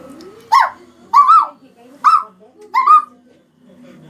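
A human voice imitates a little puppy as a mimicry act at a school arts festival, giving four short, high yelping whimpers spaced evenly apart, close and clear over a quiet background.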